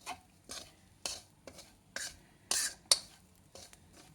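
Grated coconut roasting in a spoonful of ghee in a pan, with about eight separate scraping strokes of a spoon in a steady rhythm over a faint background sizzle, close and quiet.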